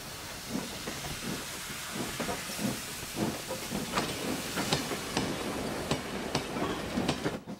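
Steam hisses from a cartoon steam locomotive, a continuous breathy rush broken by rhythmic puffs and light clicking, fairly close and with no voices.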